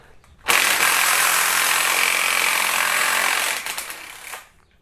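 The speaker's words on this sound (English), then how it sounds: "We're going to remove the mount for the high pressure fuel pump, 12mm socket." Ratchet with a 12mm socket loosening the mount bolts of a high pressure fuel pump on a Kia Optima engine: a loud, close, steady rapid clicking that runs for several seconds, then stutters and stops.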